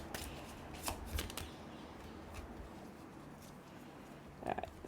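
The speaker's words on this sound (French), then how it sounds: "Je vais quand même reprendre une carte." Tarot cards being drawn and handled from a deck in a quiet room, giving soft papery flicks and short shuffling rustles that come and go at low level, with no talk over them.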